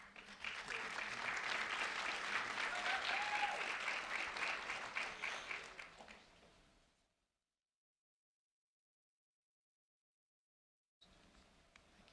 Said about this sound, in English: a round of applause for Serenity Malley